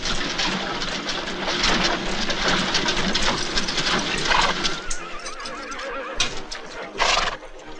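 A horse whinnies loudly in a French-dubbed Western film amid a noisy, turbulent scene of rushing sound and scuffling, with sharp bursts near the end.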